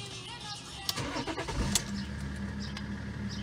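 A BMW X5 E53 starts: a brief starter crank, then the engine catches at once and settles into a steady idle, heard up close.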